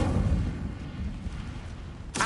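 A fire spell cast in Hogwarts Legacy on PS5: a dense, rumbling whoosh of flame that fills the clip, ending in a sharp burst near the end.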